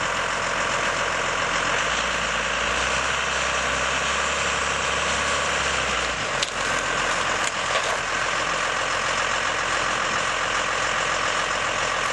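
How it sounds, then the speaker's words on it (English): A 26-ton diesel sand truck rumbles steadily with a low heavy engine drone, holding near and constant, with a deeper idle note early and a couple of brief clanks midway, no voices. "I'm going to drive this 26-ton diesel sand truck up on it, just to show you how strong this system really is"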